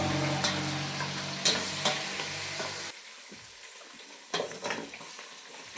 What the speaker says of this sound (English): Frying fish is not for me.